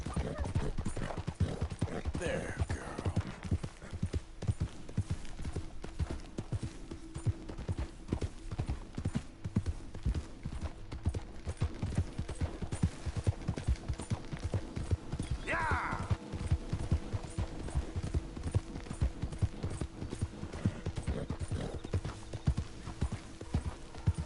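A mare's hooves clip-clop steadily in a PS4 video game, a continuous rhythmic trot with a brief whinny midway, faint ambience underneath and a voice talking at times.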